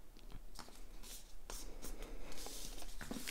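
Paper being burnished along a fold for a diaper fold treat pouch, a quiet close scraping and rubbing with short strokes repeated over a few seconds.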